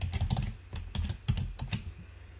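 Quick clattering keystrokes on a computer keyboard, a close, irregular run of light taps and clicks typed in short bursts.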